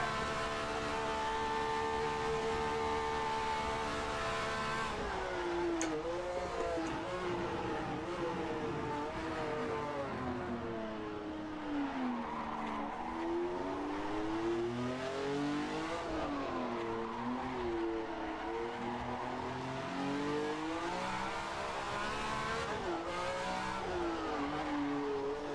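A 1967 Formula One race car in a racing game on the Pescara road circuit, its engine howling loud and close, the pitch rising and dropping through downshifts as it brakes for a corner, with faint tire squeal.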